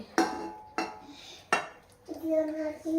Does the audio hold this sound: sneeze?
no